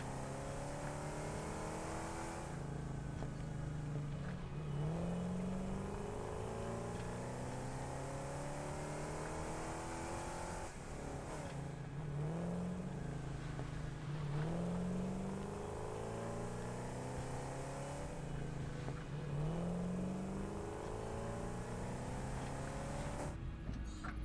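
Engine drone of a vehicle driving in the video game Satisfactory, a steady motor hum with rising revs repeating in waves, alone with no talk throughout.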